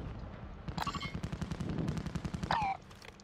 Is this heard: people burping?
no